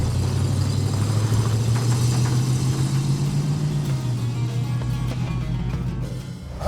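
Vintage Dodge Power Wagon engine running at a steady, loud, close idle, a continuous low rumble with a slight drop in pitch partway through.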